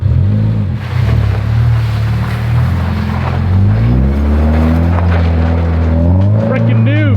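A 2022 Subaru BRZ with an aftermarket exhaust, heard as a loud, close, continuous engine drone whose pitch swells and falls as the revs rise and settle, with voices mixed in.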